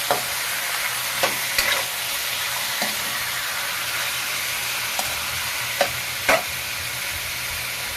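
Squid sizzles steadily in a frying pan while a utensil stirs it, with a few sharper scraping knocks against the pan over a constant frying hiss.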